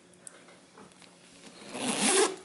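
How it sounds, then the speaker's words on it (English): Zipper on a genuine leather tote shoulder bag drawn closed in one smooth, close pull, starting faint and swelling louder toward the end, with no talking. "It's a really sturdy zip and closes really easily."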